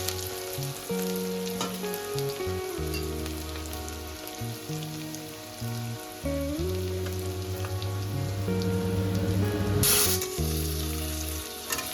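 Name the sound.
onions frying in a pan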